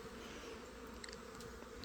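Bees buzz around corn in a soft, steady, close-up hum with faint overlapping wingbeats and no voices.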